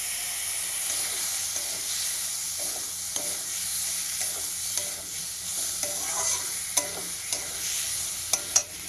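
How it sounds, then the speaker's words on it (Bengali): Fried potatoes with spice masala sautéed in a pan over a low to medium gas flame: a continuous loud sizzle with a steam-like hiss, punctuated by occasional spatula clicks and scrapes that grow more frequent toward the end. "এবার আমি ভেজে রাখা আলুটা দিয়েও কষিয়ে নেব"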